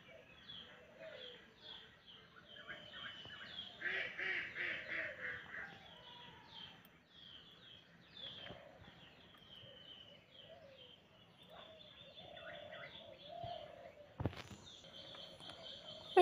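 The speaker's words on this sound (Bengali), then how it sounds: "দেখুন কত সুন্দর একটি টিয়া পাখি।" A pet parrot called Mithu gives repeated chirps and squawks at close range, varying in loudness over a quiet room background.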